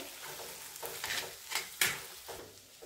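Ground moong dal is stirred and sautéed in a pan over low heat until it turns dry. Close, intermittent scraping strokes rise over a faint steady sizzle, with no voices.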